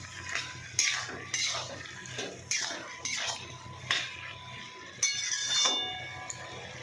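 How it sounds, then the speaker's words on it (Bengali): Leafy greens frying in a pan with a little salt and turmeric, stirred with a utensil that scrapes and clinks against the metal in repeated strokes roughly every second, over a soft steady sizzle, close and alone without talk. "জল ছেড়ে দিয়েছে, জলটা শুকাবে, আমার শাক ভাজা হয়ে যাবে।"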